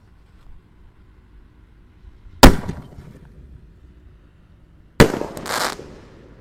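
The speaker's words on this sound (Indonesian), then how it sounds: "kita nyalakan dulu ini Solar Bridge karena nggak bisa dimasukkan ke dalam galon" Two sharp firework bangs a few seconds apart, each with a crackling burst and fading tail, set against near silence; the fireworks are set off inside a gallon water jug.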